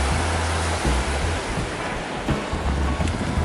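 Ocean surf washes onto Kata Beach in Phuket, Thailand, in steady rolling surges, with wind buffeting the microphone throughout.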